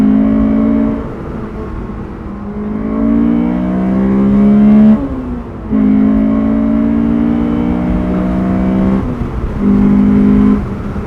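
A sports car with a stock engine, aftermarket intake and catback exhaust accelerating hard, its loud rising engine note climbing through gears with brief dips at shifts, close and steady throughout.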